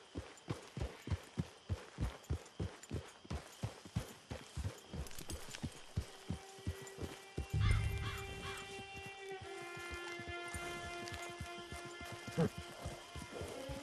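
Horse hooves clip-clop in a steady rhythm through the first half, then give way to a brief snort and tonal calls in the Red Dead Redemption Online game world, with faint bird caws and a music-like drone around them.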